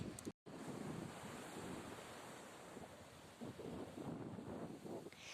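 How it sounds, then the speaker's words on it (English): Gentle ocean waves wash and roll steadily at Virgin Beach in Bali, with a soft rush of wind across the microphone. "The turquoise water with gentle waves refreshes."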